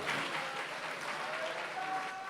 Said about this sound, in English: Can we please make the applause all resounding for Mr. Governor?